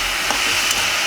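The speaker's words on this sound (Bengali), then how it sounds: "লাউটা বেশ খানিকক্ষণ ধরে আমি নাড়াচাড়া করছি।" Bottle gourd (lauki) sizzling steadily in a pan while being stirred, with occasional spoon scrapes over a dense, close frying hiss.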